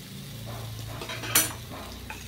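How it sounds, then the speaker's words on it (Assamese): Whole cumin seeds frying in hot oil for an Assamese fish curry, a soft steady sizzle with occasional scraping of a spoon against the pan and one sharper clink midway, close up and without talk. "তো এয়া মাছৰ তৰকাৰীখন বনাবৰ কাৰণে ইয়াত দি দিলোঁ মই গোটা জিৰা।"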